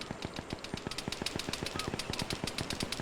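Automatic weapon fire in the Vietnam-era video game Arma 3, rapid continuous bursts of sharp shots in a tight steady rhythm, moderately distant and unbroken for a few seconds with no talk.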